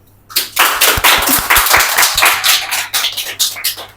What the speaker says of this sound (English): big clap for Sazia